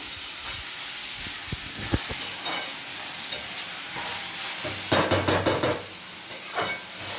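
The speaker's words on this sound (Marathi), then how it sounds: "कांदा टोमॅटो हिरवी मिरची आणि काजू हे सर्व थोडंसं तेलावर असं परतवून परतवून घ्यायचं आहे" Onion, tomato, green chilli and cashews sautéing in a little oil for a paneer tikka masala gravy, with a steady sizzle and hiss broken by scraping stirs and a burst of clattering strokes near the end.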